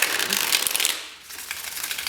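Tarot cards riffle and shuffle in a quick papery burst, pause briefly, then shuffle again more softly.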